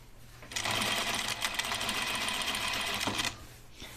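A sewing machine edge-stitches a pressed-under seam allowance on a men's button-up shirt in one continuous, fairly quiet run of rapid whirring lasting nearly three seconds.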